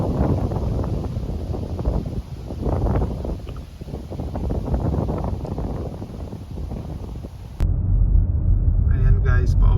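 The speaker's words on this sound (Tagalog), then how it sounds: "medyo malakas ang hangin ngayon" Strong wind buffets the microphone in a park in autumn with a steady, heavy rumble and rushing noise throughout, briefly changing character near the end.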